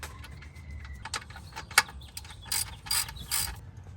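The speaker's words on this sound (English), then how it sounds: "we're gonna go ahead and reinsert the drain bolt, and we're gonna go ahead and tighten it down" Ratchet clicking as it tightens the oil drain bolt on a BMW 328i, a series of quick close metallic ratcheting bursts with short pauses between them and one sharp louder tick, no talking.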